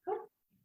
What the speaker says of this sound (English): My dog is having a nightmare in the background.